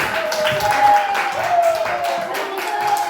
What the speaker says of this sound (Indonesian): Tepuk tangan dong untuk semua